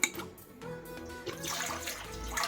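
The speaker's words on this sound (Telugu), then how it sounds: "ఒక లీటర్ నీళ్ళు పోసేసుకుందాం" About one litre of water is poured into a pan on a lit stove, a steady splashing, gurgling stream close by with no voices.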